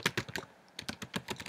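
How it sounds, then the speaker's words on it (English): Quick, close computer keyboard typing with a burst of crisp, evenly spaced keystrokes, a short pause, then another run of clicks. "I'm just gonna literally type out"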